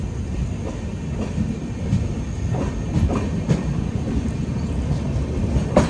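An LHB Jan Shatabdi Express passenger train on the Konkan Railway, running Madgaon to Mumbai CST, rolls past close by with a steady heavy rumble and a rhythmic clickety-clack of wheels over rail joints throughout.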